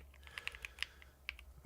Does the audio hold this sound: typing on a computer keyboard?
yes